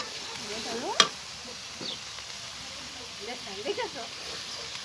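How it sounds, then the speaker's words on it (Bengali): Taro stirred into fried spice paste in a pan during village cooking, a soft scraping sizzle with a sharp clank near the start and a few spoon scrapes later, steady and close. "ভালো করে বাটনাটা কষিয়ে নিয়ে কচুটা দিয়ে দিলাম। এবার ভালো করে নাড়াচাড়া করবো।"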